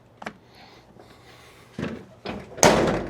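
A truck door being worked during an inspection of its rubber seals: a faint knock early on, then a muffled thud, another bump, and a louder closing slam near the end, all close by.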